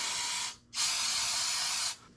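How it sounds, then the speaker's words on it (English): An aerosol cleaner sprays in two hissing bursts, a short one and then a longer one, close up, washing brake fluid off the rear master cylinder of a 1976 Harley FLH Shovelhead. "So we'll spray that out."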